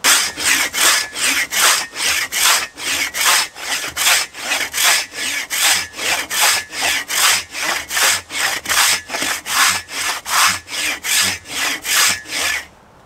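A large folding survival saw with extra-large teeth cuts through a dry, long-dead tree limb in steady, rhythmic strokes, about two per second, loud and close, with no talking.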